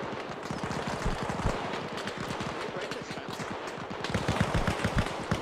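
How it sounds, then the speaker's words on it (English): Machine gun fire in ArmA Reforger during a Soviet mechanized infantry assault on a fortified quarry: rapid sustained bursts of automatic fire crackling continuously, growing louder toward the end, with voices mixed in. "We need, we're under fire."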